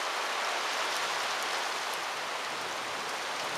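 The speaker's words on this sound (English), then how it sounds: "That's driving rain." Driving storm rain pours down in a dense, steady hiss, loud and close, with no break and no talking.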